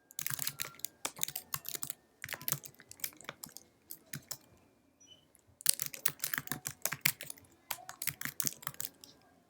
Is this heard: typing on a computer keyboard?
yes